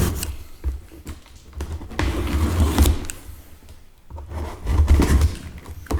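A blade slicing and scraping through the cardboard box of a Boba Fett Black Series helmet, with rubbing, tearing strokes and short pauses between cuts, close and fairly loud.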